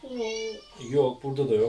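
A cartoonish cat meows in the video game Scary Teacher, one drawn-out tonal mew heard clearly. A person then murmurs and speaks briefly.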